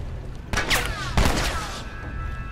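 Gunfire in The Last of Us: Left Behind: two loud, broadband shots roughly half a second apart, each with a short ringing tail, heard over a low rumbling game ambience.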